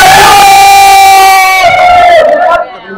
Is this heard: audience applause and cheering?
yes